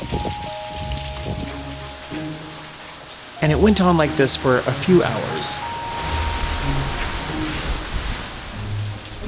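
Heavy rain from Hurricane Milton pours down steadily in Orlando, a constant broadband hiss of downpour with a low musical tone early on, while a person talks over it partway through.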